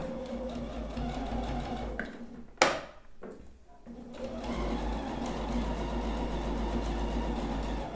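A sewing machine stitches through several layers of stocking fabric with a steady mechanical whir, close and moderately loud. It breaks off briefly partway through and then starts again.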